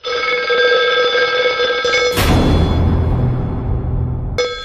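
A telephone rings with a steady tonal trill, then a louder, harsher ringing burst takes over and cuts off abruptly.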